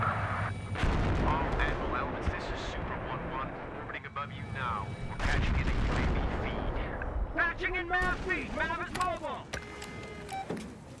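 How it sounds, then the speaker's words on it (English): Rocket barrage in a Battlefield video game: heavy rumbling explosions and booming impacts in waves, mixed with mechanical whirs and bursts, with a voice talking between blasts. "Looks like we're halting because of the rocket barrage."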